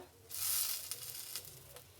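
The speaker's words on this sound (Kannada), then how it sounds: "ಕರಿಬೇವು ಸೊಪ್ಪು ಹಾಕ್ತಾಯಿದ್ದೀನಿ ಒಂದು ಸ್ವಲ್ಪ" Curry leaves drop into hot oil already holding garlic, pepper and cumin, bursting into a bright sizzle that flares then settles into crackling spits, close by.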